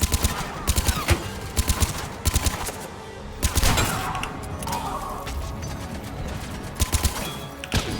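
Gunfire in the video game Mass Effect 3, aimed at an enemy's feet: repeated short bursts of rapid automatic shots, loud and close, with pauses between volleys and a crash mid-clip.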